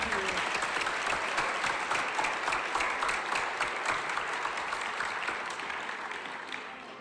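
Sustained applause from a large crowd at an educators awards and scholarship ceremony, steady and dense clapping throughout, tapering slightly toward the end.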